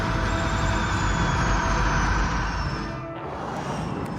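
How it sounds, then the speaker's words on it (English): A DS Formula E electric race car passes on a track, its high whine and broadband rush loud at first and then falling away with a slight pitch drop as it leaves. "you can keep doing interviews even when the car drives by"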